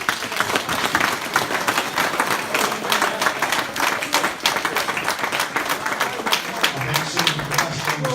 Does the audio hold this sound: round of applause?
yes